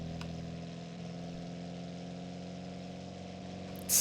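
A Soviet-designed utility vehicle engine held at low RPM gives a steady, loud mid-range hum with an even drone throughout, briefly swelling louder at the very end.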